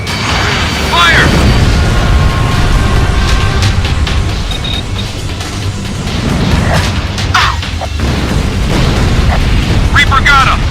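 Heavy explosive booms and crashing blasts as an enemy fighter jet is shot down in the combat flight game Ace Combat Infinity, loud and continuous over game noise, with radio voices talking in between.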